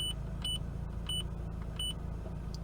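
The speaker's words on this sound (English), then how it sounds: "Here's the beep." A Mazda RX-8's electronic chime beeps in a steady repeating rhythm, four or five high tones over a low engine rumble.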